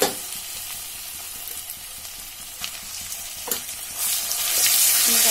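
Coarsely ground urad dal hitting hot oil with golden-red fried spices in a pan for kachori filling, a steady close sizzle with scattered spatula scrapes, swelling louder toward the end as more dal goes in.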